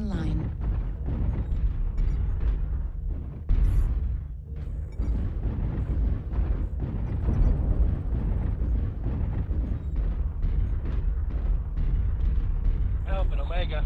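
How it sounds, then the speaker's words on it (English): Airstrike explosions in a video game: a heavy, continuous rumbling roar of blasts and booms with a sharper hit near the middle, loud and dense throughout. "Target destroyed. Airstrike online."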